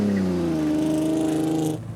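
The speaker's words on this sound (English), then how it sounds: "Right, big rev." Car engine on a Top Gear burnout test held at a steady high rev, a loud sustained droning whine that sags slightly in pitch, then cuts off sharply near the end.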